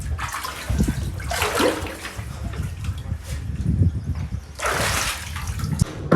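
Water splashed by hand onto the fresh concrete walls of a newly built house during curing: continuous wet slapping and spraying with two louder surges, close and steady, with no talk.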